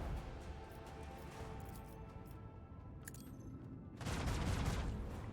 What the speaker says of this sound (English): We can shoot that thing at least with those cannons.